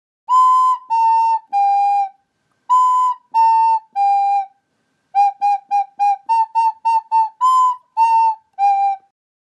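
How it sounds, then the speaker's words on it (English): Hot Cross Buns played on a recorder: three descending notes twice, then a run of short repeated notes and the closing phrase, bright, breathy and close with no other sound. "Hot Cross Buns sounds like this."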